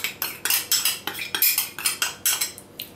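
A spoon stirs paprika, pepper and olive oil in a small ceramic ramekin, producing quick, rhythmic clinks and scrapes, about a dozen close, bright strokes in steady succession, with no talking.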